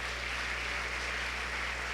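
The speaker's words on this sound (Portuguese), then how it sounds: "Pode aplaudir a Ele em nome de Jesus" Church congregation applauding during a Sunday sermon, a steady dense wash of clapping filling the whole moment at moderate distance with no voices.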